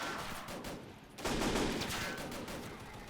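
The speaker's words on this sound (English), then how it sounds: "We're getting shot the hell up though." Rapid gunfire in the Totaler Krieg 1939-45 mod, a World War II battle with British paratroopers, bursts of shots crackling in quick succession, with a sharp, heavier volley kicking in partway and continuing at a distance.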